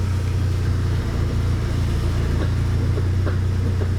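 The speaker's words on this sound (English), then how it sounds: "Now that noise we were just hearing sounds just like CV axles being out of whack" A car engine runs steadily in first gear with the wheels spinning freely in the air, loose CV axles adding to a constant low droning rumble that holds level throughout, with no talk.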